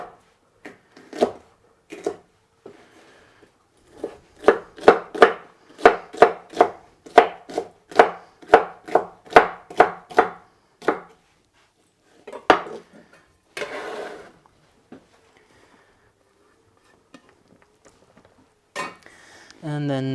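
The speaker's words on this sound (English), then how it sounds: "Now I have this Anaheim pepper, and I'll just cut that in half, take the seeds out, and cut that into cubes as well." A kitchen knife cuts a seeded Anaheim pepper into cubes on a cutting board: a quick, steady run of crisp, close chops, then a few scattered cuts and quieter handling with a brief rustle at the end.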